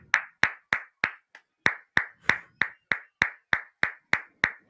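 Sharp, evenly spaced hand claps at a professional wrestling match, about three per second in a steady rhythm with one brief skipped beat, loud and distinct with no voices over them.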